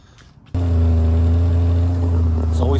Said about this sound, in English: I love the sound of that flat six carbureted.